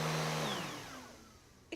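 A household vacuum cleaner's steady motor drone in a home, loud at first and then winding down and fading away, with no talking over it.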